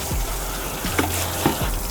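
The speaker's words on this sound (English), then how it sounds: "So first we're going to hose this whole thing down." Water from a hose sprayed over a cutting board used for cleaning mackerel, a steady close gushing rush with a few brief splashy bursts throughout.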